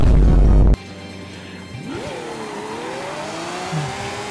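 After a loud burst cuts off, a modified police car engine in the Forza video game revs up and holds a rising, whining drone, shifting pitch as it accelerates.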